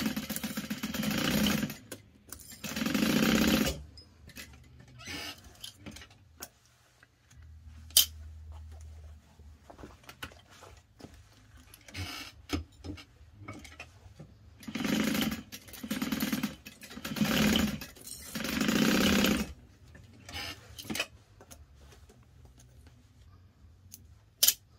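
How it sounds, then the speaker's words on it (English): A sewing machine top stitching fabric runs in several short whirring bursts separated by quiet pauses, close and moderately loud, with no talking. "Going to top stitch this piece."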